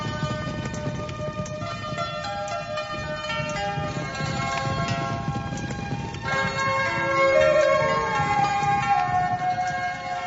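A horse-drawn cart travelling, hooves clip-clopping steadily under a sustained tonal musical score, the hoofbeats moderately loud and continuous throughout.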